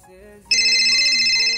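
A phone ringtone cuts in abruptly and rings loud, bright and sustained, following a softer tonal passage.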